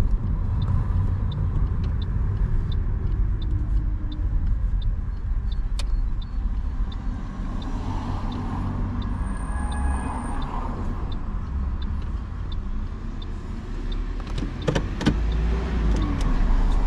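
A car is pulled over to park on the left during a morning driving test route in Goodmayes. A steady engine and road rumble runs throughout with a faint repeating tick, and a brief louder bump comes near the end.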